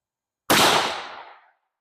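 A single close, sharp rifle shot from a Thompson Center Encore in 360 Buckhammer at a shooting range, a sudden loud crack that decays over about a second.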